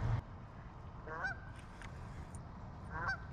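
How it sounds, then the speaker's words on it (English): A goose honks twice, a couple of seconds apart, moderately close, over a soft low background rumble at a golf course pond. "he hasn't stopped honking for 30 minutes"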